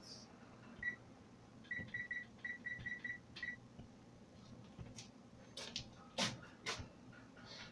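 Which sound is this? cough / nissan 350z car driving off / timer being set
timer being set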